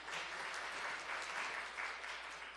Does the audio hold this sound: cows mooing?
no